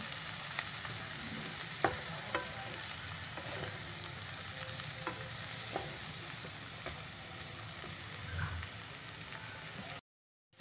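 Chopped capsicum fries lightly in a pan, giving a soft, low sizzle with occasional sharp utensil clicks and stirs. It fades to silence in the last moment.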